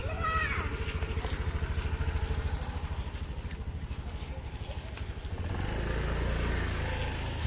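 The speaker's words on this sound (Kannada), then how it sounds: "ಗಾಡಿ ಬರ್ತೈತೆ" A motorcycle runs steadily and loud nearby on a road, its engine a constant low drone that swells slightly toward the end as it comes closer.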